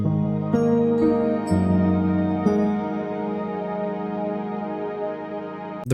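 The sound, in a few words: layered orchestral plugin sounds: ripple strings, pad and piano together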